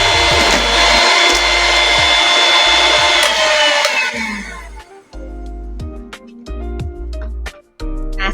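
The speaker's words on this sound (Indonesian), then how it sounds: "kali ini aku kocok putih telur" An electric hand mixer whipping egg whites for a sponge cake, a loud steady motor whir that cuts out partway, followed by intermittent knocks and short bursts of mixing.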